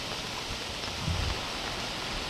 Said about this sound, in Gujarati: એવો વરસાદ અટાણે પડ્યો છે